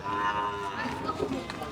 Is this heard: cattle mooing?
yes